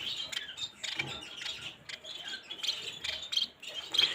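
Red-brown canary chicks chirp in quick, high, thin bursts at close range, their irregular peeps repeating across the stretch without any talk.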